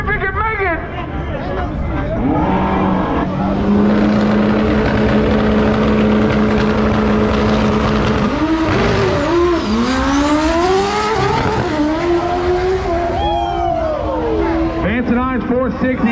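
Drag race car launching at an XDA race, a loud engine holding a steady drone, then revving up and roaring away in rising sweeps, heard from nearby over crowd chatter and talk.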